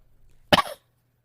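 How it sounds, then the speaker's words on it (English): A single short, sharp human cough, loud and close, followed by silence. "I say that and I cough"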